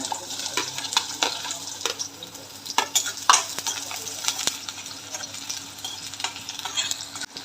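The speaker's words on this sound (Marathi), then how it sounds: "तेल गरम झालेला आहे कांदा टाकून घेऊया" Soft sizzling of onion in hot oil in a kadhai, with scattered light stirring taps and scrapes, fairly quiet and close.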